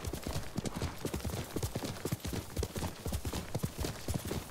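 Horse hooves clip-clop in the video game Ghost of Tsushima, a fast, even run of crisp hoof strikes close by that keeps a steady galloping rhythm throughout, with no one speaking over it.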